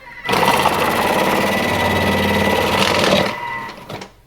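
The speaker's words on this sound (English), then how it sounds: "Thin slicing on the carrots, grating, not slicing." An electric salad cutter grating carrots for coleslaw, a loud steady motor whir with busy chattering grating that starts abruptly, runs for about three seconds, then winds down with a softer tail, no talking.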